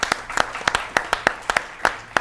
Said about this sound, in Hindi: एक बार जोरदार तालियां खुशबू के लिए